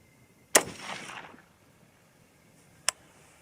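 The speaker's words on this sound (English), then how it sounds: "First shot." A single 6mm ARC rifle firing a Hornady 80 grain ELD-VT load, one sharp loud crack that rings and fades, followed seconds later by a faint distant report.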